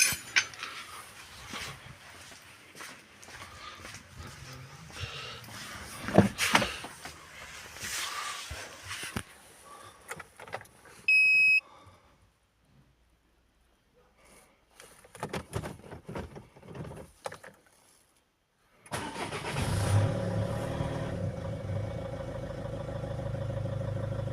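A Fiat Scudo van engine with a newly replaced crankshaft sensor starts after a stretch of metallic clinks and handling noises and a quiet pause, then settles into a steady, close idle.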